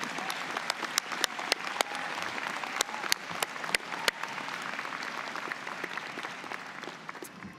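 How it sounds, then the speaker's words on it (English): Sustained applause from a convocation audience honoring graduates' friends and family, a dense wash of many hands with a few sharper claps standing out, steady and loud throughout. "join me in a round of applause for your friends and family that helped you get here today"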